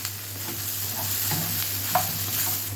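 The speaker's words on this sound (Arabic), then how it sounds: "نزلنا بالمكعبات بتاعت البتنجان، يتقلب كله مع بعضه من 4 معالق زيت" Starch-coated eggplant cubes sizzle in about four spoonfuls of hot oil while a utensil stirs and scrapes the pan, with a steady low hum underneath.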